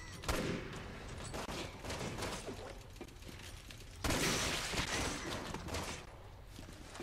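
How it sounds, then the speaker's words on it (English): Sniper rifle fire in the video game Resident Evil 6 gives two heavy booming shots with long reverberant tails over a dense, loud wash of battle noise. "I actually love the sniper rifles in this game"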